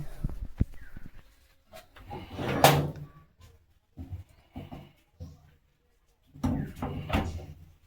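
A small gate set in concrete at the mouth of a cave in Bhalughara jungle is opened, giving a few close knocks and scrapes and then a louder rattling clatter, with short quiet gaps between bursts.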